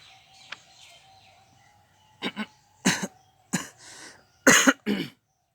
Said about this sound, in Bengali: একটু কাশি চলে এসছে